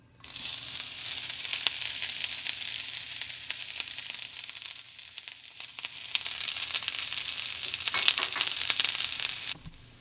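Chopped onions hit hot oil in a pan and sizzle continuously, a bright, crackling hiss that stays steady and fairly close for several seconds before cutting off.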